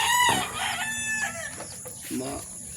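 A rooster crows close by, its long harsh call rising and falling, with faint background voices and other birds.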